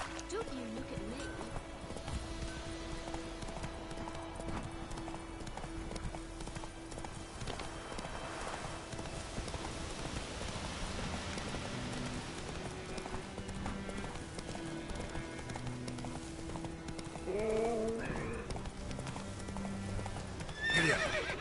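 A horse gallops in The Witcher 3 game with continuous rapid hoofbeats throughout, and a couple of neighs break through near the end over the steady galloping.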